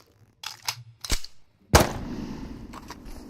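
Pistol shots from an M9 in a video game, two or three sharp reports at mid distance followed by one louder close crack with a short tail.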